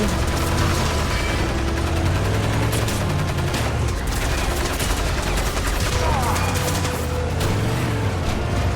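Heavy gunfire in Crysis Remastered, with dense, continuous automatic bursts and blasts that fill the scene loudly and closely, along with mechanical clatter.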